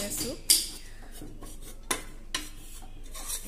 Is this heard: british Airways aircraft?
no